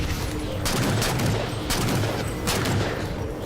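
Light rifle firing in Halo: The Master Chief Collection, a steady stream of dense energy-weapon bursts with a couple of louder peaks, continuous and fairly close throughout with no talk over it.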